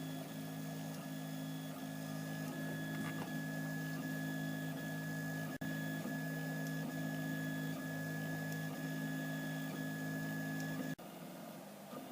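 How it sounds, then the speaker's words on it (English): A 3D printer prints a household repair part, giving a steady, faint mechanical hum with tonal motor whine that runs continuously, broken only by two brief clicks, with no talking. "I'll wait till this is finished and then get some shots of the completed piece"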